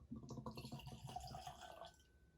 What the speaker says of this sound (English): I'll pour this in the glass to try and let it breathe for a little bit